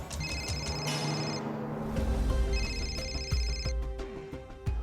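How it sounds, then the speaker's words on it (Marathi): An incoming telephone call rings with a repeating electronic ringtone, bursts of bright chiming tones recurring in a steady pattern over a busy indoor background. "फोन येतोय."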